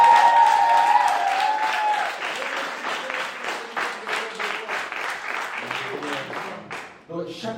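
A church congregation applauds and cheers in acclamation, with a dense, steady patter of clapping from many hands and a voice calling out over it before the clapping thins at the end.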